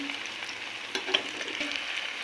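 Soybean kebabs fry in a pan until golden brown, a soft, steady sizzle heard up close with a few faint clicks and taps, fairly quiet and without speech.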